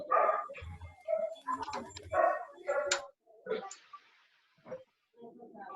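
A dog barks through a participant's unmuted microphone during an online class. The barks come in short, irregular bursts mixed with other call noise and some voices.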